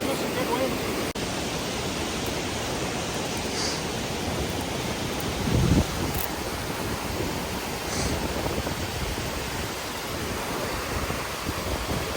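A giant waterfall roars among rocky crags in bear country, a steady broadband rush that fills the whole clip, loud and continuous, with a brief swell partway through.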